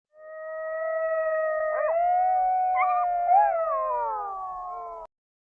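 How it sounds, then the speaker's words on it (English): A coyote gives one long, sustained howl lasting about five seconds that wavers and bends in pitch, with brief yipping inflections partway through. It is loud and clear, with no other sounds. "This is a coyote."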